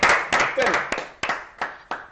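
Scattered clapping from a French television studio audience for the host: a few sharp, separated claps fading out over a couple of seconds, with a voice heard at the start.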